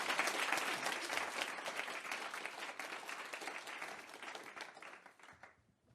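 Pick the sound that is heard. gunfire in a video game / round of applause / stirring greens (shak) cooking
round of applause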